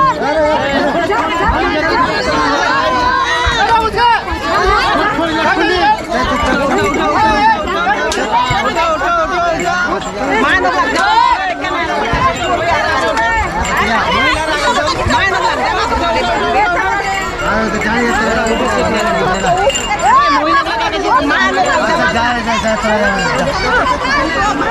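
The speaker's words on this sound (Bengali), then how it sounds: "গাইজ প্রচন্ড প্রচন্ড ভিড়" A dense crowd of passengers boards the Katihar–Radhikapur special passenger train, their loud, overlapping chatter and shouting forming a continuous close-up babble with no pause throughout.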